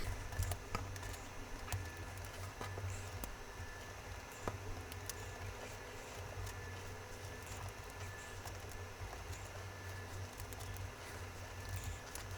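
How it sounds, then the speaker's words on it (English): Small plastic plungers are pried out of an Amstrad NC100 keyboard, giving faint scattered clicks and ticks over a low background hum. "the keyboard has lots of these little plungers. So let's remove those first"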